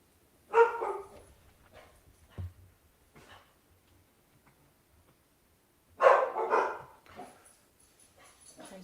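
Dogs bark in two separate bursts, one early and a louder cluster a few seconds later, with quieter scattered yaps and a brief low thump between them in an otherwise quiet indoor room.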